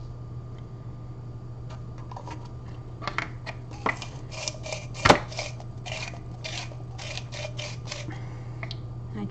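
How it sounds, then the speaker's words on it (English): A Medtainer container's built-in grinder breaks up cannabis bud, giving close, irregular crunchy clicks and scratchy grinding bursts over a low steady hum, with one sharp snap midway and no talk. "it's got a built-in grinder. So you just drop it in."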